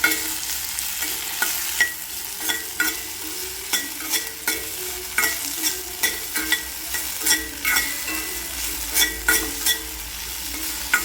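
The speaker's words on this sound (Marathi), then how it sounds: "तर आपण थोडी गरम झाली भेंडी तर त्याच्यामध्ये मीठ ॲड करूया थोडासा हलक्यासा. मिक्स करून घ्यायला व्यवस्थित." Chopped okra sprinkled with salt frying in a hot pan while a spatula stirs it, giving a steady close sizzle broken by regular scraping clatters throughout.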